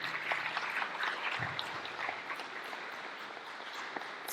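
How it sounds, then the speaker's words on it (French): Steady applause from a crowd at a public gathering in Montfermeil, France, a dense wash of clapping that holds evenly throughout without speech. "c'est moi qui voudrais vous applaudir ici."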